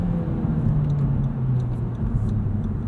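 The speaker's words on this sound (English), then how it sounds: "That gives you a pretty good example of how long it takes for the revs to drop" A 2017 Honda Civic Hatchback Sport with six-speed manual idles with a steady low rumble, its pitch sinking slowly as the revs fall away after the clutch goes in, close and continuous with no voices.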